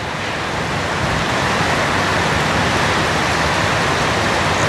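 Steady broadband hiss of rain falling outdoors, continuous and fairly loud throughout with no voices.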